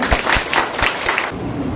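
An audience claps together after a count of three, a dense burst of applause filling most of the moment before it cuts off abruptly near the end.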